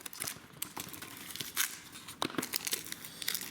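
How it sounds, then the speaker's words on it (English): Tape being peeled and ripped off a fireworks family-pack box, a close run of sharp tearing and crinkling bursts at an irregular pace with no talking. "try my best to untape this. Obviously, I'm going to rip a little bit"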